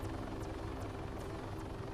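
A helicopter in the video game Arma III flies steadily, its engine drone and rotor chop filling the scene with a loud, continuous whir and a regular beat, with no voices.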